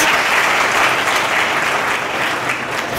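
Loud, dense applause from an audience honoring second-prize winners at an awards ceremony, continuous and even for the whole stretch.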